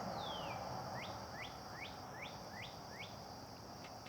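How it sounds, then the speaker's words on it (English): Birds singing early in the morning, a series of short, repeated rising chirps at an even pace, faint and set against a steady outdoor hiss with no talking. "hear the birds?"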